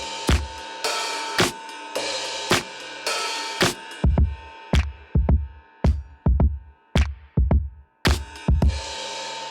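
A programmed drum beat from a Soulfi beat-making instrument plays punchy kicks and crisp hits in a steady loop, with the focus control shifting emphasis between the low kick and the bright top percussion.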